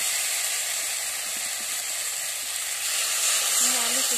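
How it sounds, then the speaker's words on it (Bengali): Potatoes sauté in a pan with fried fish for a curry, a constant broad hiss of frying that holds evenly throughout at close range, with faint scraping underneath. "ঝোলের জন্য আলু দিয়ে আমি খুব ভালো করে কষে নেব আলু দিয়ে।"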